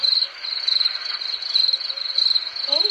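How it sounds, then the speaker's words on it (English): Crickets chirp in a steady, continuous high trill that pulses lightly and holds at an even, fairly close level throughout, with no voices. "Then I heard these crickets."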